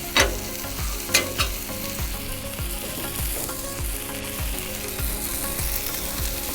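A thick steak sears on a hot Blackstone griddle with a loud, steady close sizzle, punctuated by regular soft low taps and a few sharper clicks, with no voices.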